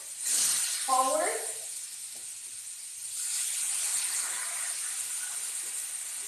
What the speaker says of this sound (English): I'm going to take my white wine, and again, being very careful, I'm going to tip my pan forward